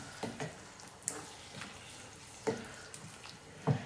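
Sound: stirring cauliflower potato curry in a pan

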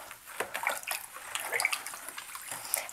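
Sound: stirring salt into a water dye bath

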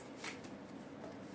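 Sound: tarot cards being shuffled

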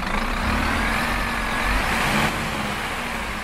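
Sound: Scania CityWide bus engine revving in video game OMSI 2

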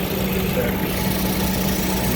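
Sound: Suzuki Vitara 1.6 engine idling with air conditioning on

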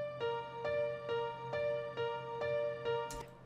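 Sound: piano playing repeating rhythm, Nexus Pop Keys

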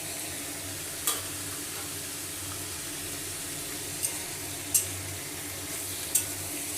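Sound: onion, garlic and chili frying in a pan

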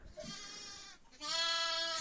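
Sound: sheep bleating on a farm

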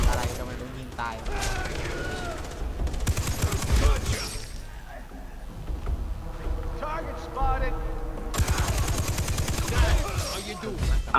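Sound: gunfire from soldiers in Far Cry 3 video game

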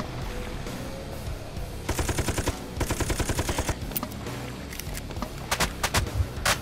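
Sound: gunfire in video game Dead Sky

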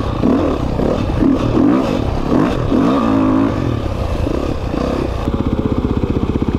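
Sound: motorcycle engine revving

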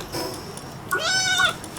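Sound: cat creature meowing in video game Palworld

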